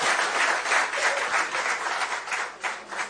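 A crowd at a political gathering in Rajasthan applauds a party official, dense steady clapping that fills the whole short stretch at an even level.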